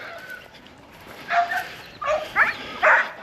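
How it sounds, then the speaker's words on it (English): A dog barks several times at a moderate distance, a few sharp barks spaced out over a quiet background. "so my dog's going crazy"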